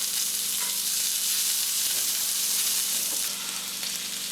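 A steak sizzles on a hot grill, with a steady, close, continuous frying hiss and faint crackles throughout, no voices.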